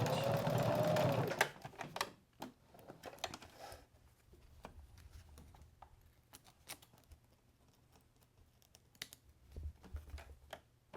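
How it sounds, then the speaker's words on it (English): Home sewing machine stitching fabric for a seat belt cover, a loud whirring run at the start that stops abruptly, followed by quiet scattered clicks and handling taps. "I'm going to cross that stitching line and back stitch"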